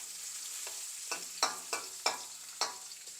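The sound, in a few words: green chilies frying in pan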